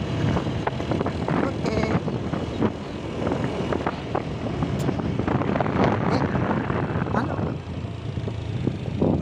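Strong gusty wind buffets a garden in a steady roar with rumbling low end, broken by brief knocks and rustles, while a person speaks briefly.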